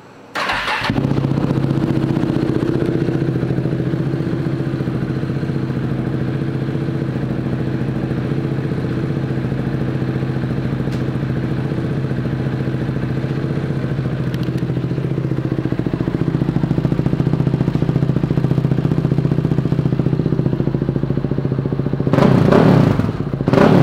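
A 2013 KTM 690 Duke motorcycle engine starts and idles steadily nearby with a thumping single-cylinder rumble that swells slightly toward the end, followed by a brief clatter.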